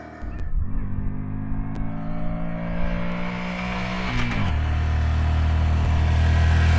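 A 125cc Dax motorcycle at full throttle on Guardsman Pass, 10,000 feet up: a steady engine note climbs in pitch, drops briefly at a gear change, then pulls on louder and rougher, close and with no talk.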